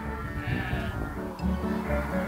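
Several sheep on a lamb farm bleat near and far in overlapping calls amid a busy, noisy pen, with the strongest bleats close by toward the end.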